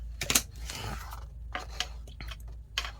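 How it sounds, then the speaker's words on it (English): Scissors snipping paper hinges cut from a gel-printed mixed-media pocket folder: a few short, crisp cuts and rustles, close and fairly quiet, with gaps between them. "Let me get a pair of scissors."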